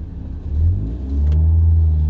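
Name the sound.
Audi TTS turbocharged car engine revving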